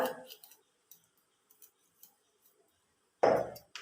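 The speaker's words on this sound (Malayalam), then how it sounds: "തല വൃത്തിയായി അതിനുശേഷം ശേഷം ഇതിൻ്റെ വയറ് കീറുക" A knife slits open a fish's belly while the fish is cleaned for drying, with a few faint light ticks and scrapes, then one loud close rasping cut near the end.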